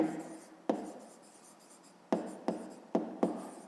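Pen or chalk writing on a surface while a fifth-grade maths exercise is worked out, heard as a few short sharp taps and strokes spaced irregularly, near and fairly faint, with no talk.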